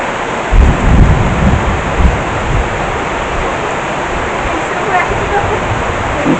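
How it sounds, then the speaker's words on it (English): A heavy deluge pours down steadily outdoors at evening, with deep rolls of thunder rumbling in the first couple of seconds before the rain carries on alone as a dense, constant hiss. "And you can hear the thunder."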